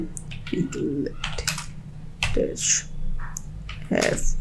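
Fingers type on a computer keyboard at a Linux terminal, irregular clusters of close clicks and key taps with short gaps.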